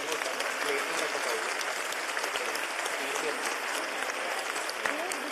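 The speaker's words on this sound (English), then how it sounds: "round of applause." An audience at a cultural performance of songs and ballads gives sustained, dense applause, with a steady wash of many hands clapping continuously, moderately distant and fairly soft, with no break.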